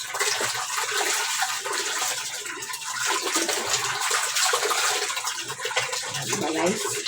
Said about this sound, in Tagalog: Dami pang tubig sa lababo guys